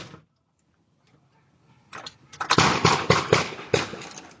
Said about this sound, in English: Multiple gunshots can be heard, but Peter's surveillance video